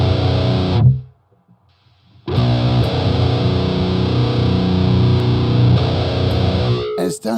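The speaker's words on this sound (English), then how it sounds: "incredible job of maintaining the guitar sound." An electric guitar played through the Stray Cat Purrist noise reduction app on an iPad: a sustained distorted chord rings, cuts to near silence for a moment, then another distorted chord holds steadily before a brief scratchy ending.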